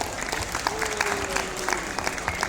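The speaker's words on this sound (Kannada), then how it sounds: "ಈ ಮಾತಿಗೆ ಒಂದ್ಸತಿ ಜೋರ ಚಪ್ಪಾಳೆ ಬರಲಿ." A college audience at an event with a film director and team applauding, a fairly steady burst of clapping with sharper individual claps standing out and a faint voice or tone drifting underneath.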